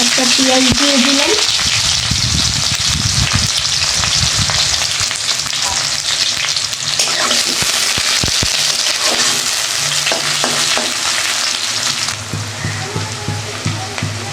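A chopped onion frying in oil in a kadai wok: a loud, continuous sizzle that fills the whole stretch, with occasional clattering stirs and a slight drop in intensity near the end.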